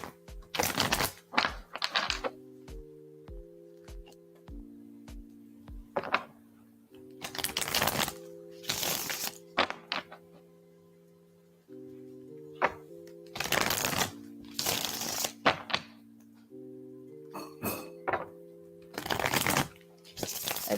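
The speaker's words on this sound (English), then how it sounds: "All right, all about me and shuffling for you now." Tarot cards are shuffled in repeated quick bursts of riffling and tapping, close and crisp, separated by pauses while a soft tonal background plays underneath.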